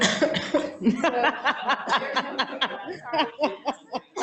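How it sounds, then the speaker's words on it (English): Repeated short coughs and throaty bursts come in an uneven run, close and moderately loud, mixed with chuckling sounds. "I'm getting a coughing attack right now"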